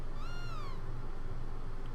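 A cartoonish cat meow from the Chrono Trigger video game, a single rising-then-falling mew near the start, followed by steady low game background sound with no talking.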